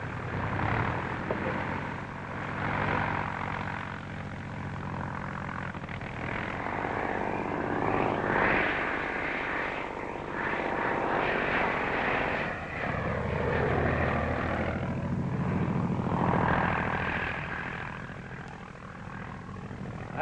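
A propeller-driven fixed-wing airplane from around 1941 drones steadily throughout, a continuous engine roar with slow swells in loudness and no pauses, with a faint voice occasionally under the noise.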